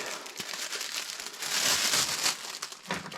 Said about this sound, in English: Get my sediment filter unwrapped.